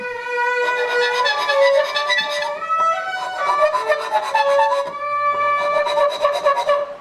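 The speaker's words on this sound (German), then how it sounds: "Dann mache ich es einfach so, dass ich mit der Feile." A hand file rasps back and forth across a tight wooden drawer dovetail joint, making loud, rhythmic, close strokes in three long bursts with brief pauses between them.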